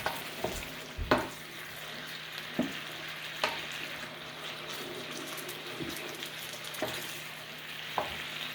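Chicken simmering in heavy cream in a pan for a creamy lemon basil dish, a soft steady sizzle and bubbling with occasional spoon clicks against the pan.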